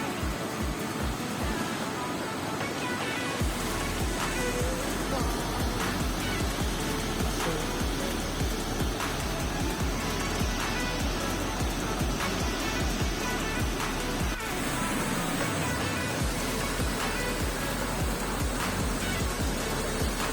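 A dense, steady roar of heavily falling water at the Rhine Falls in Switzerland, loud and continuous throughout, with no voices.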